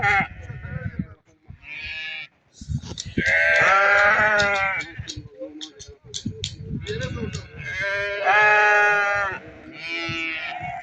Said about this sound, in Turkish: Görün ne güzel kuzuları var.